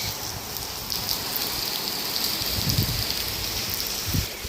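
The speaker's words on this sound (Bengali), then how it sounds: "বৃষ্টির সঙ্গে সঙ্গে বাতাস" Steady rain pours down with wind on a rainy day near lychee trees, a dense, even hiss of drops at close range with a few heavier patters and no voices.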